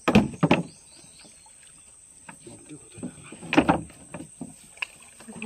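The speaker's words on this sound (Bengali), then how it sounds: "ঘুরে যাচ্ছে নৌকা," A wooden rowboat turns on tidal water while fishing with set nets, with hollow knocks and water splashes clustered near the start and again midway over a quiet background, and people talking briefly.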